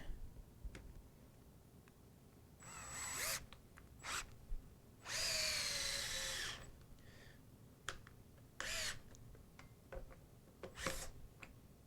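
A power drill drives a screw into an anvil stand in several short whining bursts, the longest lasting over a second, with scattered clicks and handling taps between them in a quiet workshop.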